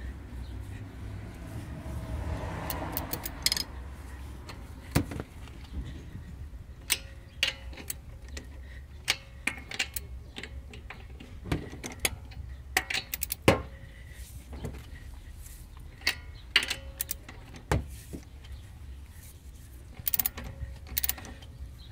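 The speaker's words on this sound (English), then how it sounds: "I'm using this breaker bar to break the lug nuts loose." A breaker bar loosens the lug nuts on a 2005–2010 Honda Odyssey, giving sparse, sharp mechanical clicks and ticks over a quiet background, fairly faint and with no talking.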